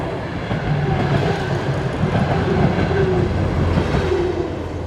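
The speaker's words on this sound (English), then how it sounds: "So the train that I thought was at that point actually was a diesel train. That means it doesn't stop yet." Diesel train rolling through a station without stopping, with sustained rumbling, clattering wheels and faint squeal, loud and close, no voices.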